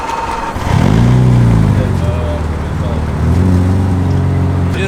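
McLaren sports car engine catching and settling into a loud, steady idle close by, with a second surge of revs a few seconds later.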